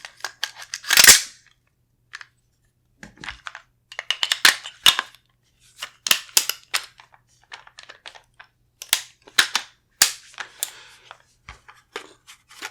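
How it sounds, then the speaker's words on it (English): Bolt carrier being fitted into a Windham Weaponry MCS rifle, a run of sharp metallic clicks and slides, some crisp and close, others lighter, spaced across a quiet background with no talk. "Now we're going to put the exact same bolt carrier back in."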